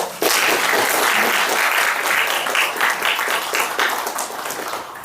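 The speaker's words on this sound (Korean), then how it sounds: "뜻깊은 강연 해주신 이준석 대표님께 다시 한번 큰 박수 부탁드리겠습니다" An audience at a Korean political lecture in the Chungcheong region gives a sustained, steady round of applause for the speaker, dense clapping filling the room at even loudness throughout.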